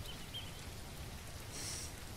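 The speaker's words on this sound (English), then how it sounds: "Oh, and now it's going to rain." Steady rain patters down in the survival game Mist Survival, a soft continuous hiss of drops close around, with no voices over it.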